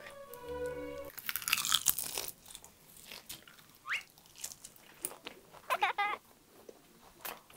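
Crisp crunching bites and chewing of a yellowtail sashimi wrap with radish sprouts, close to the mic, with a few sharp crackles and rustles between quieter pauses.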